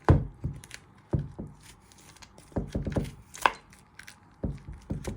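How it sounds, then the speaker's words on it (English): A spoon scraping seeds out of a vegetable while prepping Moroccan chicken, a series of close, sharp knocks and scrapes at an uneven rhythm, with no talk. "Now with a spoon you want to get all the seeds out."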